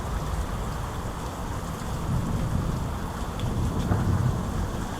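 Steady heavy rain in Poteau, Oklahoma, a dense continuous wash of noise with a low rumble swelling beneath it, constant throughout with no voices.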